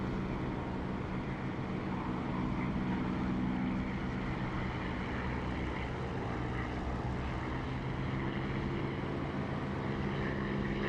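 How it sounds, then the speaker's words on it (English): In a flight sim game, an aircraft engine drones steadily and loudly throughout a landing on the runway, a continuous propeller hum with slight swells in level and no talking. "listen for the engine volume to pick up as it bounces off the runway"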